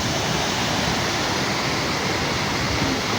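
Aw Asen Falls in the Philippines pours in a constant, dense roar of rushing water, steady and fairly loud throughout with no voices.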